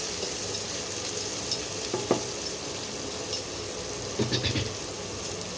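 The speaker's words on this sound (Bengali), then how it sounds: "পেঁয়াজটা ভাজা ভাজা হয়ে গেছে" Onions fry in a pan for an egg and cauliflower curry, giving a steady close sizzle broken by a few sharp stirring scrapes and clinks, heaviest late on.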